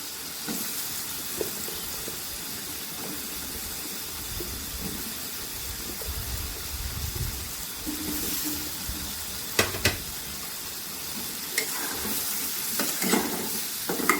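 Taro stolons (lati) frying in a spice masala in a pan, with steady sizzling and hiss, a faint rumble underneath and a few sharper clinks of stirring near the end.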